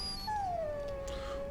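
A warhound in the Dragon Age Origins video game gives a single drawn-out whimpering howl that slides downward in pitch, clear and fairly close, with no talking.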